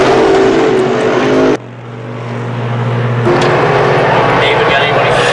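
Modified race cars roar around the oval at Can-Am Speedway, a loud engine drone that drops away for a moment then swells back as they pass, with a commentator's voice running over it.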